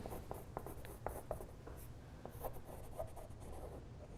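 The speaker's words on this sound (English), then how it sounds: "I'm going to use a pencil, and I'm just going to trace around this shape" A pencil traces around a shape on fleece while lining a crocheted hat, giving soft, steady scratching strokes with small taps, quiet and close, with no talking.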